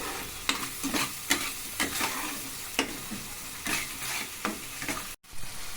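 A spice paste made with asafoetida and ground fenugreek fries in oil in a pan, a steady sizzle broken by repeated scraping stirs in an irregular rhythm, close and fairly quiet, with a brief cutout near the end.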